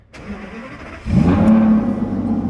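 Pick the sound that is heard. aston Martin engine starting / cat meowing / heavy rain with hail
aston Martin engine starting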